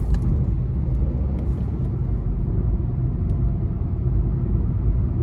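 A Tata Altroz turbo diesel hatchback, facelift model, is driven hard, with a steady, loud low engine and road rumble heard from inside the cabin and no voices.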